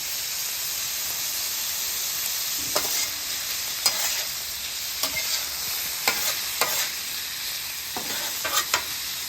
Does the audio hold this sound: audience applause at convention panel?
no